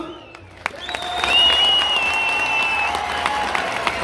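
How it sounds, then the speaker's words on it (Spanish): Crowd applause at a jaripeo rodeo during a patron-saint festival rises after a sharp clap into sustained clapping and cheering, with a whistle-like tone running over it. "regálele el aplauso"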